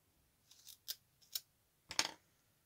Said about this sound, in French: Une paire de ciseaux, ça sera mieux.